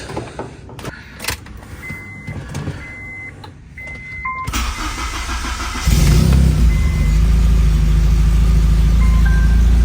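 Quiet clicks and short electronic beeps come first, then the K24 engine swapped into a DC2 Acura Integra cranks and catches. It settles into a loud, steady idle with a deep rumble.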